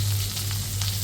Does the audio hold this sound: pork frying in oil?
yes